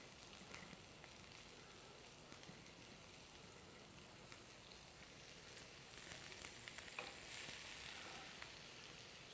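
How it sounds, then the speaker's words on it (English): Quail pieces stir-frying in a pan give off a soft, continuous sizzle that stays faint and even throughout, with no talking over it. "Stir that around real good, let it stir fry a little bit."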